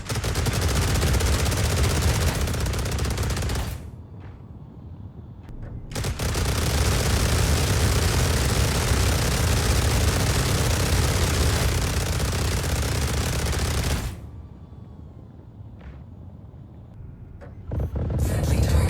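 Ballistic weapons fire in Star Citizen slams into a target in two long, dense sustained bursts of loud, roaring gunfire, each several seconds long, separated by a quieter gap and ending with a short renewed burst.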